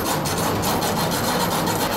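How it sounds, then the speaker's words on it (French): A hacksaw rasps steadily against metal chain in a fast, continuous back-and-forth scraping, close and loud with no voices. "Elle n'a même pas encore scié une seule chaîne."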